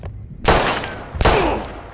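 Gunshots in the video game Life is Strange, two loud close blasts about three-quarters of a second apart, each with a sharp attack and a ringing tail, following a short quiet stretch.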